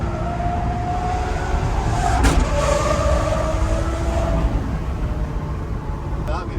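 A Lamborghini Aventador SVJ engine roars steadily nearby in a tunnel with a rising rev partway through, loud and continuous, people talking under the noise.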